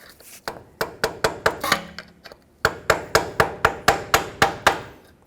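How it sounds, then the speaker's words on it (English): Repeated sharp metal taps from a pry bar striking a vacuum hub actuator on a 2009-2014 Ford F-150 front axle, about a dozen close, loud impacts in a steady rhythm with a short pause midway. "Now let's tap it off of here with a pry bar."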